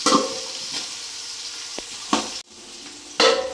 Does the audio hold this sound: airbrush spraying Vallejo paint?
no